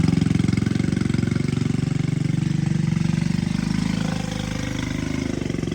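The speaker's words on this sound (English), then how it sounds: "But now it seems to idle okay," A swapped-in 125cc engine on a three-wheeler idles close and loud, a steady rapid low putter that holds even throughout with no voices.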